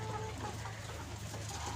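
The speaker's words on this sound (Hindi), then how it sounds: "सोनाली मुर्गे 1200 पीस के करीब हैं।" Sonali chickens at a poultry farm cluck and murmur faintly, with a low steady hum underneath.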